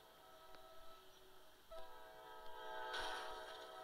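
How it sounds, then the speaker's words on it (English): A train in the Roblox game Trains Vs Cars 2 approaches with a blaring horn and rumbling rail noise that swells louder toward the end, fairly faint overall and with no talking. "The train's coming."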